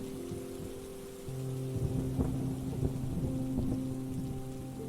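Steady rain patters on surfaces while low thunder rumbles and rolls in the distance, growing slightly heavier partway through, with no voices.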